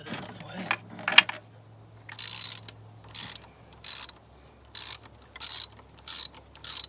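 Ratchet wrench loosening a bolt on the high-pressure fuel pump of an R56 Mini Cooper S, a short run of fast clicking followed by evenly spaced bursts of ratcheting, close and clear.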